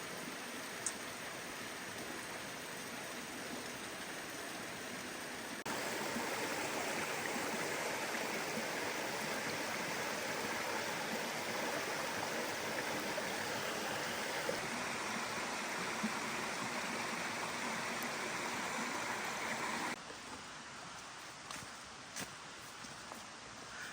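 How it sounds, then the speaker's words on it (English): A small waterfall pours into a creek in a national park, a steady broadband rushing that swells louder partway through and eases again near the end, with no voices. "a little waterfall running down into the creek"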